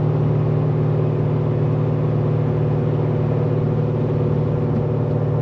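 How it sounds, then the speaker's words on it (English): A cammed, catless Corvette Z06 cruising in fifth gear at about 2200 RPM, a loud, steady low engine drone with a constant deep hum filling the cabin, even and unbroken throughout with no talking. "If I were to drop it down into fifth gear, that would raise us up to about 2200 RPM"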